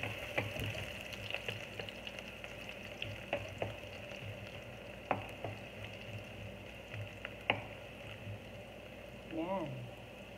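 Garlic frying in a hot, smoking wok gives a steady close sizzle with scattered pops and crackles, and a short voice near the end.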